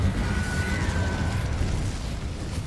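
The Incendio fire spell goes off in Hogwarts Legacy as a rumbling whoosh of flame, a dense low roar with a faint rising tone that holds steady for a couple of seconds.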